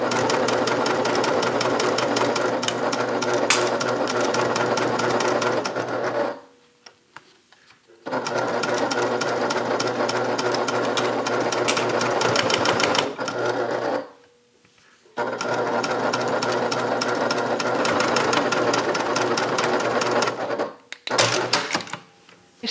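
A sewing machine stitches a bag handle with a long stitch length, running loud and steady in three sustained runs separated by short pauses.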